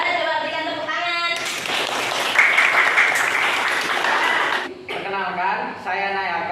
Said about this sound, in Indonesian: Ini sudah bagus sekali dari kelompok 2. Coba berikan tepuk tangan.